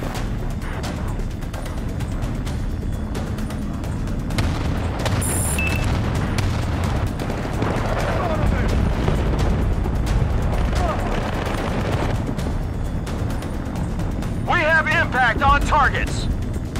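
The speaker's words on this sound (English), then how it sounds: "Artillery fire inbound on target. Stand by for impact." Artillery impacts in Battlefield: Bad Company land as repeated heavy booms and rumbling blasts, mixed with gunfire and radio chatter, with continuous talk over the combat din.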